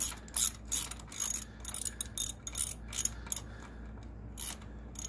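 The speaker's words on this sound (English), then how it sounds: "I'm gonna take the ratchet, put it in here." A ratchet clicks in repeated short bursts as it backs out engine mount bolts on a Harley Dyna, close and fairly quiet, with brief pauses between strokes.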